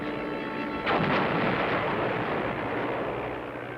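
Aerial bombing tests on ships, with planes dropping bombs on vessels including a captured German battleship: a single loud, sudden blast with a long rumbling roar that slowly fades over several seconds.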